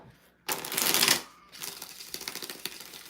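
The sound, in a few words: shuffling reading cards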